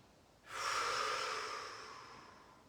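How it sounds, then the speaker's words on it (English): A single deep breath drawn in sharply through the nose and slowly let out during a gentle senior fitness stretch, close and clear in a quiet room, with no talking. "Give it a deep breath."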